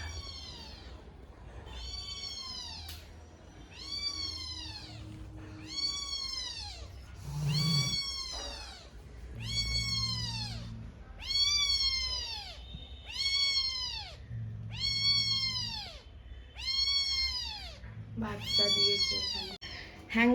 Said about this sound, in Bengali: শুনতে পাচ্ছেন মিউ মিউ ডাকটা